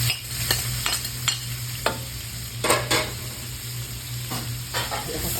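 Food stirs and fries in hot oil with a constant sizzle, broken by several sharp scrapes of a utensil against the pan. The sound is close and there is no talking.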